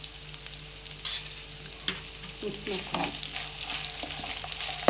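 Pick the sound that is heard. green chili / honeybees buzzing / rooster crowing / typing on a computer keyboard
green chili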